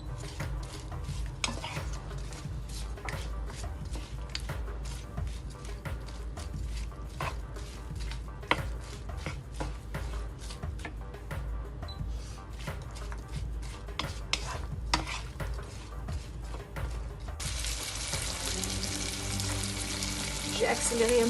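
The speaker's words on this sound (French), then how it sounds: "j'ai accéléré un petit peu mon feu pour justement faire revenir les oignons et faire sortir leur jus." Onions sizzling and frying in a pan for Moroccan chicken couscous with confit onions, with steady crackling and occasional stirring scrapes throughout, a louder hiss surging near the end as the heat is raised.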